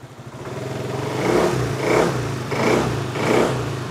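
A Kymco Superdink 300 scooter engine idles close by, with a steady low hum and a faint clattering. It swells rhythmically about every half to three quarters of a second, like light pulses on the throttle.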